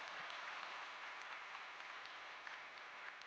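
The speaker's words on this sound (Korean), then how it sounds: "모든 우리 진행팀들한테 박수 한번 부탁드리겠습니다" Steady, dense applause from a large audience at a corporate festival event, a continuous wash of clapping lasting throughout at a moderate, somewhat distant level.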